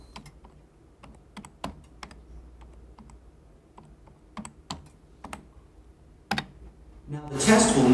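Scattered keystrokes tap on a computer keyboard while logging in, sharp isolated clicks in irregular clusters, followed at the end by a louder burst of rustling noise.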